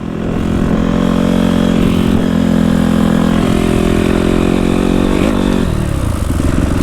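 A 2020 Honda CRF 250R motocross bike is ridden on a track, its loud, buzzing engine held at high revs as it passes near, then shifts pitch and eases off toward the end.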